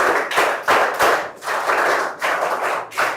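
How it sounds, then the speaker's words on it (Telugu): An audience applauding a student's rank at a school parent-teacher meeting, bursts of hand clapping that swell and dip in quick waves, close and loud, no talking. "గట్టిగా చప్పట్లు కొట్టి అభినందించండి"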